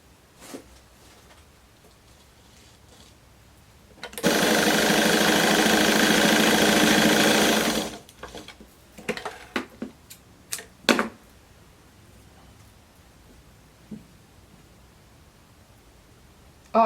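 A sewing machine runs one continuous loud burst of about four seconds stitching a blouse seam, followed by scattered clicks and fabric handling nearby.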